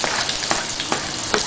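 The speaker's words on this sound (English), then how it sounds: "Add some oil to a frying pan. And now add some grated onion," Grated onion frying in oil in a frying pan, a steady close sizzle with a few brief sharper crackles and stirring bumps throughout.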